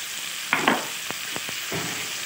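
Mustard paste is added to fried onions in a pan for an okra chorchori and stirred, giving a steady sizzle with a few sharp spoon scrapes and clicks close by.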